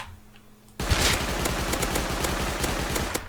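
Sudden sustained automatic fire from a Custom SMG in the video game Rust, a dense rapid burst of shots starting after a quiet moment and continuing loud to the end.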